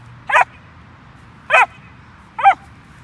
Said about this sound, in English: What's up with these Chihuahua barks?